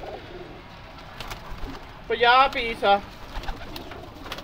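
Pigeons kept in a breeding loft give a brief close burst of low, rolling coos, two or three calls in quick succession over steady background noise, with someone speaking briefly nearby.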